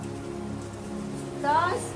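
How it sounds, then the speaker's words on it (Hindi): Rain falls steadily, a soft continuous patter on surfaces throughout, with a brief tonal chirp near the end. "बारिश आ रही है"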